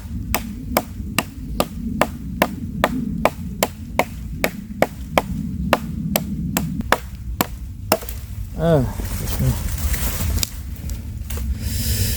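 A survival knife blade chops hard wood with steady, sharp thwacks about twice a second, then the chopping stops and rustling, scraping handling noises follow.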